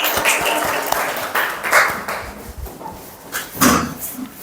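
A classroom of students applauds, with dense, noisy clapping that swells and eases in bursts, fairly loud and close, with no clear talk over it.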